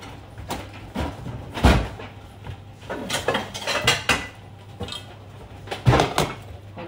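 A kawali cooking pan being handled in a home kitchen, with several sharp metallic clanks and knocks spaced irregularly amid softer rustling and handling noises.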